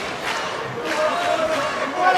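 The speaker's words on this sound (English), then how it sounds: "Chant goes up in the crowd for Yostenis Cedeno, who's from here in Miami" At a CFA 12 mixed martial arts event in Miami, an arena crowd chants for fighter Yostenis Cedeno, a loud rhythmic roar of many voices with shouts rising and swelling through the clip.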